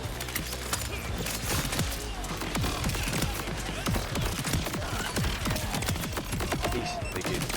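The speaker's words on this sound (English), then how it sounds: "that is a sniper rifle. You can see there are additional projectiles feeding out all the time." Rapid, dense gunfire from a sniper rifle spitting extra projectiles in Borderlands 4, a continuous fusillade of sharp cracks and thuds with no pause, loud throughout.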